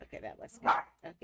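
Mimi the dog gives a single short bark, heard close and set among a woman's speech.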